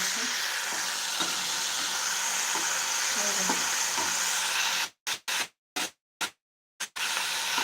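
Hot oil spattering and sizzling steadily in a frying pan as food is roasted, close and continuous, broken near the end by several abrupt silent gaps.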